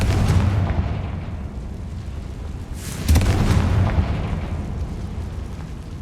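Magical Confringo blast in Hogwarts Legacy, a deep booming explosion that hits sharply with a rumbling decay, preceded by a lighter burst and lingering low rumble.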